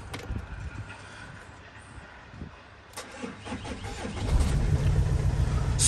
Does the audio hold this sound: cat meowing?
no